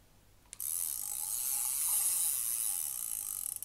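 A Daiwa Millionpower ST-9000RD fishing reel clicker buzzes as a rapid, steady ratcheting rattle, close and fairly loud, starting sharply and running for about three seconds before easing off.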